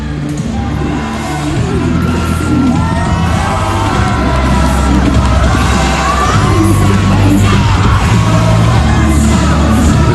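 A partisan home crowd at the SEA Games 2017 silat finals cheers and yells for a Malaysian fighter, a loud continuous roar of many voices with whoops and shouts rising throughout.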